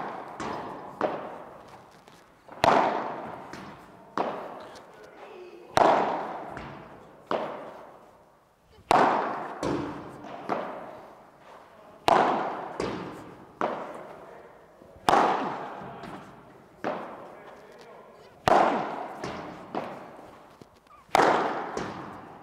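A padel ball is struck hard over and over with a Black Katana padel racket, giving a steady series of sharp, loud smacks, often in quick pairs, each hit followed by a brief fading ring.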